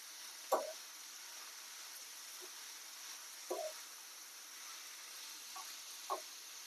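Ridge gourd peel fries in a pan under a soft, steady sizzle, with three brief louder scraping stirs spaced a few seconds apart.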